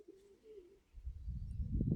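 Young pigeons released into flight: a faint coo opens, then rising wing flutter and rustle grow louder over the final second, with no talk.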